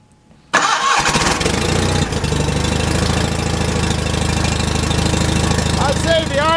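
A John Deere 316 lawn tractor engine on choke catches abruptly after a brief quiet moment, then runs loud and steady with a rough, throbbing idle close to the microphone, with faint chirping late on.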